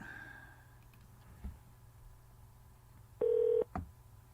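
A telephone keypad gives a single short touch-tone beep over a quiet background hum, with a few faint handling clicks around it.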